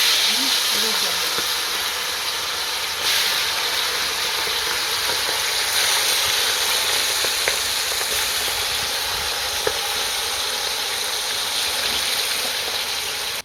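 Chicken pieces for homemade chicken kothu frying in hot oil, a steady loud sizzle and hiss that runs unbroken throughout with faint crackles.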